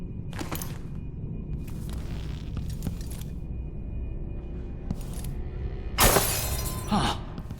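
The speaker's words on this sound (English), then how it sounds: "That sounded like broken glass." Glass shatters in the video game Dishonored 2, first as scattered clinks and cracks, then as a loud crash of breaking glass near the end, with no talk.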